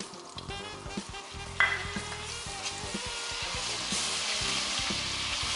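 Garlic sautéing in olive oil gives a steady, close, crackling sizzle that holds throughout, with a brief utensil clatter early on.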